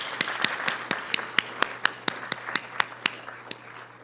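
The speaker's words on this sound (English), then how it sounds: "let us give Dr. Nteri and KaAbBa Banachi another round of applause" Sparse clapping from a small workshop audience, a dozen or so distinct sharp claps in a loose, uneven rhythm, fairly close and modest in volume over a low steady hum.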